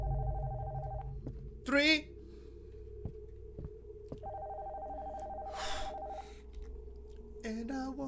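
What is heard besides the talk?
telephone ringing upstairs in the horror video game Nocturnal Visit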